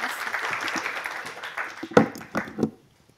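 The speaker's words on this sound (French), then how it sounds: "on applaudit tout le monde" An audience claps at an advertising awards ceremony, Le Meilleur de la Pub 2025, a steady burst of applause that thins to a few final claps and then falls silent.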